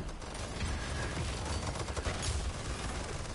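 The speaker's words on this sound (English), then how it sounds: "He does the McCree fucking, like, fast shot." Rapid fast-shot gunfire from the Paladins video game, a dense, continuous rattle of shots filling a few seconds at steady loudness, with no talking.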